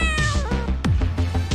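A cat character in the video game Onmyoji gives a clear, loud meow with a falling tone, followed by short game effect sounds, with no talking over it.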